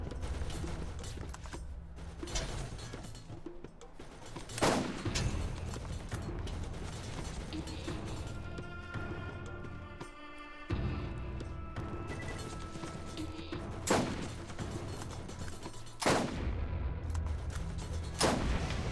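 A turret fires in the video game Borderlands, sending loud booming shots every few seconds amid whirring, creaking mechanical noise and a ringing metallic whine in the middle, with no talking.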